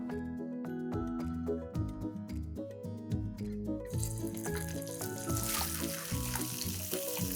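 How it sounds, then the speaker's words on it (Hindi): Paneer shallow frying in oil in a pan, a steady sizzle that turns louder and brighter partway through, with clinks and scraping over a faint musical backdrop. "और पनीर को मुझे हल्का हल्का गोल्डन होने तक फ्राई करना है।"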